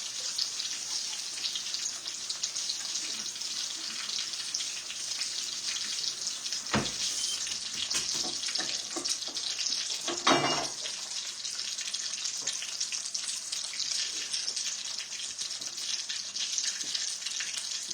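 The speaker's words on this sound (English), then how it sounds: "Let me wash my hands real quick." Water runs steadily from a tap with a constant hiss, broken by a few splashes and clatters as hands move under the stream.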